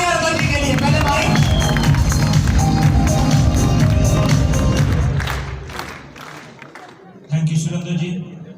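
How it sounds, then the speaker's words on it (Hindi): A crowd at a network-marketing gathering applauds loudly and cheers for a guest over backing music, the clapping holding strong for several seconds, then fading, before a short burst of sound returns. "जोरदार तालियां रतन जी के लिए"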